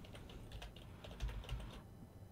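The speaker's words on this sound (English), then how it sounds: "So I can type in Excel" Keys clattering on a computer keyboard as an Excel formula for a binomial probability is entered, a quiet run of quick irregular taps over about two seconds with no voices.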